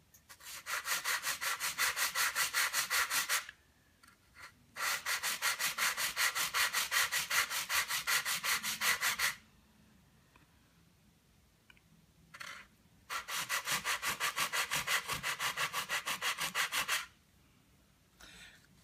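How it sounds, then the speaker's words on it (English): Sandpaper is rubbed back and forth by hand over wood at a slight diagonal. Close, steady rasping strokes come in long runs, with brief pauses between them and no talking. "as I sand back and forth, I'm going a little bit on a diagonal"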